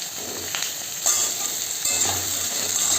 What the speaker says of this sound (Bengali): আমি প্রথমেই তেলের মধ্যে আলুগুলোকে ভেজে নেব।